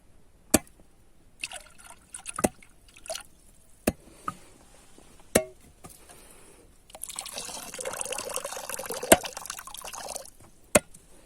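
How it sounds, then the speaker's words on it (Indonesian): Water poured and trickling into a container to mix a cassava root stimulant, with sharp drips and knocks before a steady close splashing pour late on. "Oke, kita tuangkan air dulu."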